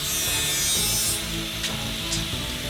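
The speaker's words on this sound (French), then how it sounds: "Coupons un morceau de tuyau." A length of pipe is cut by hand for a homemade rolled ice cream machine, giving a steady close rasping saw stroke that eases off partway through, followed by a couple of brief sharper scrapes.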